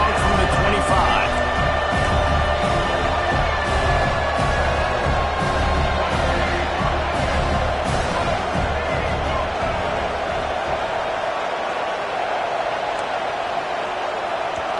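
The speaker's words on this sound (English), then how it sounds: "And with this place rocking, the crowd forces a false start." Stadium crowd at an American football game roaring and cheering loudly and steadily as a sustained wash of noise, easing off slightly toward the end, with a commentator's voice running over it.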